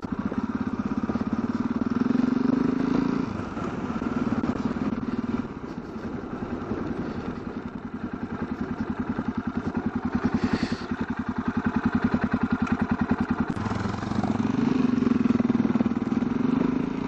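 A motorcycle rolls slowly past on a riding trip in Mongolia, its mid-range engine putting along at low revs with a steady rhythmic pulse, close by and loud, easing off and returning.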